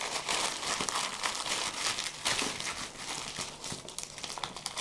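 Wrapping paper is folded and creased for a mum-to-be baby basket, producing continuous close, loud crinkling and crumpling with sharper rustling bursts throughout.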